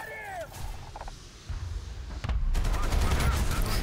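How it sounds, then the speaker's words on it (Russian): Machine-gun fire rattles in War Thunder during an anti-aircraft vehicle battle. A short voice opens the clip, then rapid bursts of gunfire build into a loud, sustained fusillade with distant booms behind it. "Хоть я ее пробивал с пулемета"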